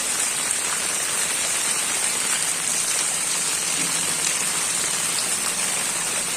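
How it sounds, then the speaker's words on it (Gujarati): Steady rain pours down on a street in Jetpur town, Rajkot district, Gujarat, with water flowing over the road: a continuous, even hiss of falling drops close by, with no voices. "થોડા દિવસ વિરામ બાદ જે વરસાદ જે વરસી રહ્યો છે"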